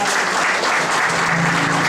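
Loud, steady clapping from a crowd of guests at a baptism party held at night in Ossining, New York, filling the short stretch without pause.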